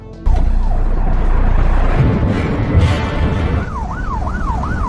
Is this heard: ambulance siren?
yes